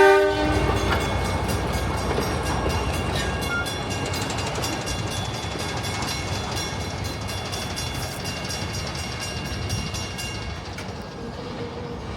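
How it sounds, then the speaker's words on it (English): An ex-Queensland Railways DH5 diesel locomotive shunts around the busy Belgrave yard, giving a loud, steady engine rumble with a sustained tonal whine that runs through the whole stretch, with no talking. "with ex-Queensland Railways DH5 shunting around the yard"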